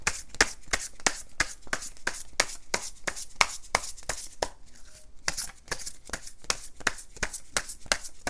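Tarot cards are shuffled by hand in quick, evenly spaced crisp riffling slaps, close and soft, repeating steadily with one brief pause, with no talk.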